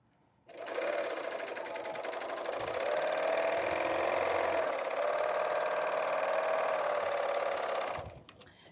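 An overlocker sewing machine stitches cording for a woven basket, a loud steady mechanical whir running continuously for several seconds after a quick start, then stopping abruptly.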